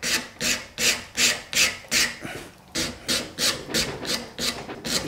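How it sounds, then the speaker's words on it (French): Steady rhythmic rasping strokes as a rasp rounds wood edges, about a dozen back-and-forth scrapes at an even pace, close up, with no voices. "au moyen d'une râpe, j'arrondis légèrement les angles là."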